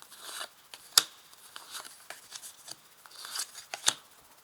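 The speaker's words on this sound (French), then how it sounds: "Je vais placer 5 cartes." Playing cards are laid one by one on a table in a tarot-style spread, giving soft papery slides and flicks with a couple of sharper snaps, close up and without talk.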